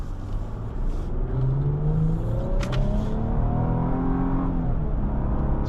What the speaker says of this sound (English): I like that twin turbo V6 sound